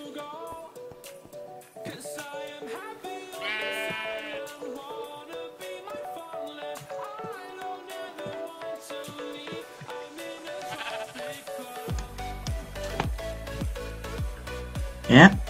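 A sheep in the Minecraft video game bleats several times amid game sounds and background music, with someone speaking Dutch over it and a louder burst of noise near the end.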